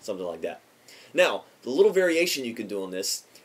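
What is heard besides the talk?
No distinct noise like a dog, phone or traffic.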